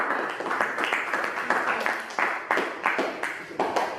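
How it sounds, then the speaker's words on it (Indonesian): Classroom students applauding presentation groups, with scattered clapping in uneven, rhythmic bursts that rise and fall over a busy room background. "tepuk tangan untuk kelompok 3 dan kelompok 1 yang sudah menanggapi"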